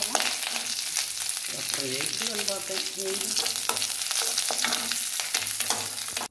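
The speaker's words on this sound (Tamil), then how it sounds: "இப்போ பூண்டு புளி இதெல்லாம் வறுத்துட்டாங்க இப்போ கருவேப்பிலை சேர்த்திருக்கிறாங்க அது கூட வரமிளகா சேர்த்தாங்க" Garlic, tamarind, curry leaves and dried red chillies fry in a pan, a dense unbroken sizzle with ongoing stirring and scraping close by.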